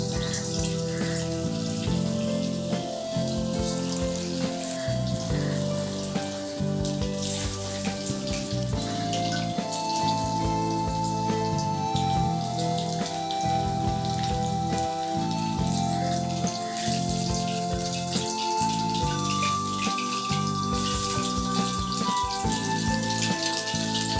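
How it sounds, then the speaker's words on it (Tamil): Chicken 65 pieces frying in hot oil in a kadai, a continuous crackling sizzle mixed with background music, steady and close. "இப்போ சிக்கன் போட்டு பொரிச்சு எடுத்துக்கலாம்."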